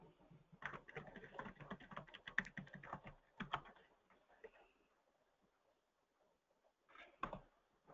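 Bursts of typing on a computer keyboard during an online class session, quick clattering keystrokes in irregular clusters, then a pause and a brief final flurry, fairly faint and with no one speaking.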